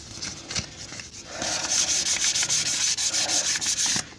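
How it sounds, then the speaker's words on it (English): Fine 1500-grade sandpaper scrubs a Ford Falcon front stub axle: a few light scratches, then quick, close, rhythmic rubbing strokes repeating steadily. "the stub axle, let's give a bit of a clean with some very fine sandpaper"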